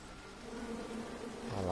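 Bees buzz in the King's Quest video game, a steady, fairly close insect drone that swells slightly over a couple of seconds.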